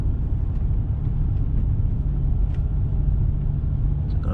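A BMW E60 M5 rolling around a corner and up a hill before stopping on the incline, a steady low engine rumble and road noise, close and continuous without a break.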